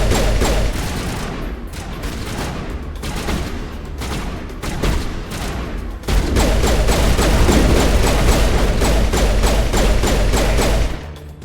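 Shotgun and other gunfire in the video game Mass Effect, a dense run of loud, rapid blasts and thuds that grows heavier and more continuous in the second half.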